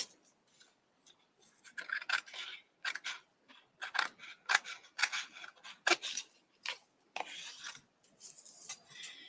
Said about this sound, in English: these scissors are not very good